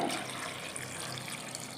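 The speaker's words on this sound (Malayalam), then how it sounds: "ഇനി നമുക്കിത് നികക്കെ വെള്ളം ഒഴിച്ചു കൊടുക്കാവേ" Water is poured steadily into a pressure cooker over two kilograms of grapes for homemade grape wine, giving a soft, continuous splashing trickle that stays close and fairly quiet with no talking.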